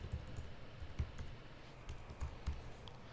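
Keys tap on a computer keyboard during a live coding demo at a tech meetup, soft, scattered clicks at an uneven pace, quiet and close, with no speech.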